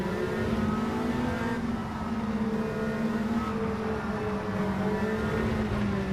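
A turbocharged GTCC touring race car at Barcelona holds its engine high in the rev range, a steady droning tone with slight pitch wavering, loud and continuous throughout with no pauses.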